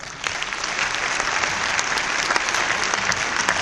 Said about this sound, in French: que je voudrais qu'on applaudisse